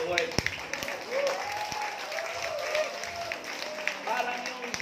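A church congregation keeps up scattered, fairly soft applause while a voice talks over it.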